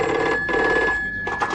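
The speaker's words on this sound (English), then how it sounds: "Number 3 phone shrills sharply." A telephone bell rings sharply at a police flying squad desk, a loud, continuous shrill ring broken by a short pause before resuming.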